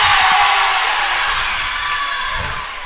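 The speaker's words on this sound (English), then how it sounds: "Titan crowd really getting into that one." A home crowd cheers and whoops at a volleyball match, a broad roar of voices that stays loud and then slowly fades over a few seconds.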